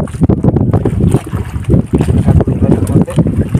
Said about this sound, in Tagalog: Medyo mahangin tayo ngayon